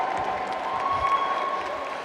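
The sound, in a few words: crowd applauding a roller derby skater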